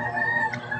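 A short, nasal cluck-like call from a chicken, close and clear, lasting under a second.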